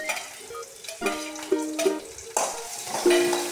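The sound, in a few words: green chili, ginger and garlic added to hot oil and stirred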